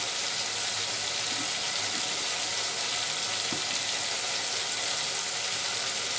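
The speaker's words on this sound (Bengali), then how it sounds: "পেঁয়াজ রসুনের গন্ধটা যাওয়া পর্যন্ত আমি কষিয়ে নিলাম" Onion and garlic with turmeric frying in oil in a pan as shrimp curry is cooked, a steady broadband sizzle that holds evenly throughout with no talking over it.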